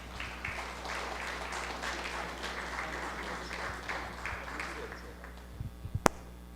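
An audience at a yoga anniversary event claps steadily to welcome a professor, a moderate, even patter of applause in a room that tapers off, followed by a few louder knocks and a sharp click.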